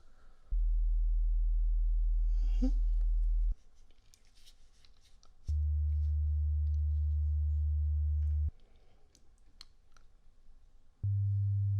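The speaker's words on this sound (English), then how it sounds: "I'm gonna play the tones starting now." Hearing-test tones play on the right side in a dragon-nurse roleplay: three long, steady low beeps, each lasting a few seconds with short pauses between, alongside faint scratching and rustling.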